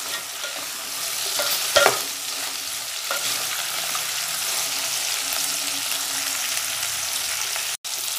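Okra sautéing in an open pan, a loud, steady hissing sizzle that fills the clip, with occasional spatula strokes and a short clatter early on.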